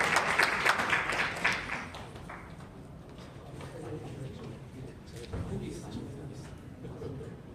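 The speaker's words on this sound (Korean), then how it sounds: "박수로 맞아주시면" Audience applause welcoming a speaker at a forum, a burst of clapping that fades over a couple of seconds into quiet room murmur and shuffling.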